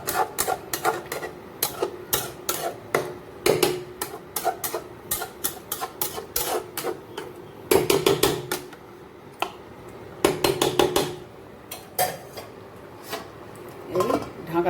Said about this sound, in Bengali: এই ঢাকা দিয়ে দিলাম, একটু সেদ্ধ হোক